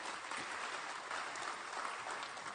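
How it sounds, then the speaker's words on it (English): An audience applauds a Kathak dancer at an awards ceremony, steady dense clapping filling the hall at moderate level throughout, with no voices over it. "Let's give her a big round of applause once again."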